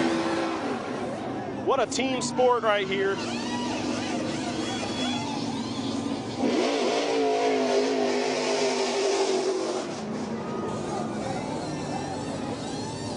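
NASCAR stock cars with their engines revving and running at a Las Vegas pit-stop setting beside the Bellagio fountains, a steady mid-pitched roar with some swelling passes, heard under continuous commentary from nearby speakers.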